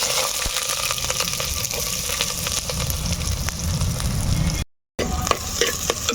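Onions frying in hot oil in a pan over a wood-fire stove, a steady close sizzle with stirring scrapes, briefly cut to silence near the end before the sizzling resumes.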